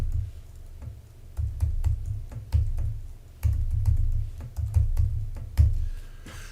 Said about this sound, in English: And I put a password.